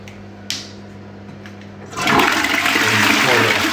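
A sharp click of the handle, then after a short pause a toilet flushes with a loud, rushing surge of water that keeps pouring through to the end, close up in a small bathroom.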